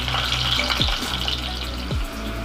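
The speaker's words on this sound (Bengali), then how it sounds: "এভাবে আলুগুলো ঘুরিয়ে ঘুরিয়ে একটু লাল করে ভেজে নিতে হবে আমাদের।" Potatoes frying in oil for a Bangladeshi kacchi biryani, a steady sizzle with no speech, broken by two soft stirring scrapes.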